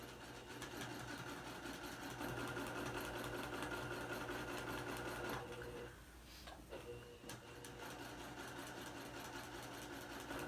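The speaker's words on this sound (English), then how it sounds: "And I do stitch in the ditch at a slow speed." A sewing machine quilts at slow speed, stitching in the ditch around raw-edge appliqué shapes on a placemat, with a steady rhythmic needle patter that briefly pauses and then resumes.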